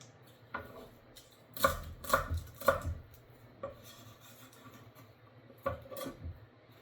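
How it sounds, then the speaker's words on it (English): Small garlic cloves chopped with a knife on a board for a Thai shrimp seafood broth, a few separate sharp knocks clustered together, then a couple of lighter isolated taps, close and clear in a quiet kitchen. "these smaller ones I'm going to chop up"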